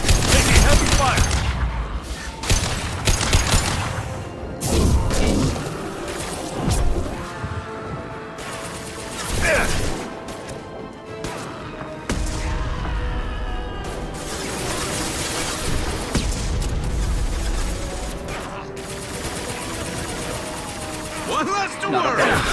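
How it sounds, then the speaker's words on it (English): Heavy gunfire and crashing impacts in the Mass Effect 2 Legendary Edition, loud and dense bursts of shots with booming hits, mixed with game music and characters' voices talking. "Taking heavy fire."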